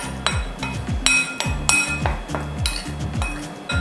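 A whisk or spoon clinks sharply against a bowl while dry cake ingredients for a double chocolate banana cake are mixed, giving rapid, irregular metallic taps that ring out clearly up close.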